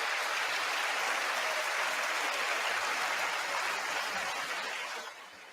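Sustained applause from a large chamber audience at the 2024 State of the Union, a dense even wash of clapping that fades slightly at the end.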